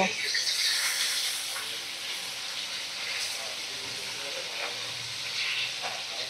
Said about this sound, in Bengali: তো একটা একটা করে মাছ আমি ছেড়ে দিয়েছি দেখো গরম তেলের মধ্যে, আর সেগুলো ভাজা হচ্ছে